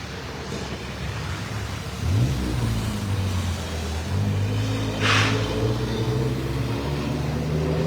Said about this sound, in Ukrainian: Автівкам доводиться їхати по воді у напрямку Слобожанського проспекту.